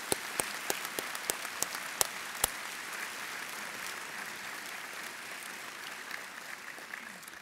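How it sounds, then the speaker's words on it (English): Applause from a large audience at a military college graduation ceremony, a steady, moderately distant roar of clapping with a few sharp, close individual claps standing out in the first few seconds. "Please join me in a round of applause for our faculty"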